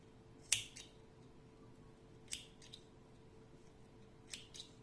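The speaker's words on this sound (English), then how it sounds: "Now I am cutting the last yarn end." Scissors snip through a leftover yarn end on a crocheted pressed-flower bookmark: three quiet, crisp cuts spaced a couple of seconds apart over a soft room hush, with no talking.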